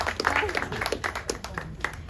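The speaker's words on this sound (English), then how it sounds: "Give yourselves a round of applause." An audience at an outdoor comedy show in cold, rainy weather claps scattered and lively, overlapping hand claps with some voices mixed in.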